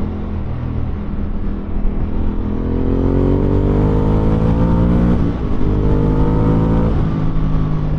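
Ducati Scrambler Urban Motard motorcycle engine revving hard in race mode, a loud, sustained close-up roar whose pitch climbs steadily, dips briefly, then rises again.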